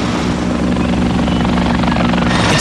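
A medical evacuation helicopter heads in to a sports oval serving as a helipad, its loud rotor thump and engine whine filling the air without pause.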